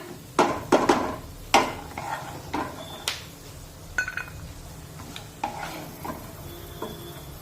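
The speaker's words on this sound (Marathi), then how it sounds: "हे हे सुद्धा तुपामध्ये छानपैकी परतून घेऊया" Light sizzling as dry fruits fry in ghee, under repeated scraping and stirring clatter of a utensil against a pan, in irregular close strokes.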